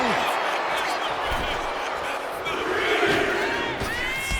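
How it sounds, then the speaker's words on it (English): Virtual arena crowd in the WWE 2K25 wrestling video game roars continuously at a steady loud level, with shouts and cheers swelling near the end over a dense wash of noise. "However you feel about Seth Rollins, he knows how to get the crowd going."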